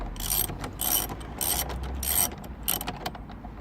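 A ratchet wrench turns out a 16mm bolt holding a BMW M Sport steering wheel, giving close, repeated bursts of rapid clicking with short pauses between strokes.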